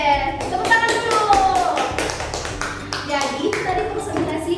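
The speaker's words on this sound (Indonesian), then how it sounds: "Oke, tepuk tangan dulu." Schoolchildren in an Indonesian classroom clap after a group presentation, a burst of quick, uneven hand claps mixed with children's voices chattering and chanting over them, close and fairly loud.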